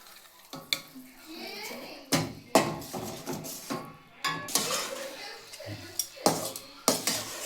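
Chana dal sweet mixture being stirred in a pan with a spoon, making repeated scraping and clinking strokes against the metal in an uneven rhythm, close and fairly loud, with no talking.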